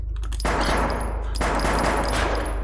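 Rapid gunfire from a gun in an indie horror game, two loud sustained bursts of fast repeated shots close by, each lasting about a second, over steady background noise.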